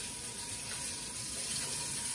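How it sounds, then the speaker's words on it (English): Three-quarters of a cup of water poured into a bowl of cornstarch and baking soda for homemade air-dry clay, a steady, soft close-up trickle and splash lasting a couple of seconds, with no talking. "So let me add my 3/4 cups of water."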